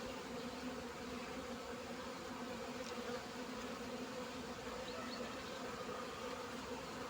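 Honey bees working at a hive entrance while carrying pollen make a steady, dense buzz close by that continues without a break and has no talking.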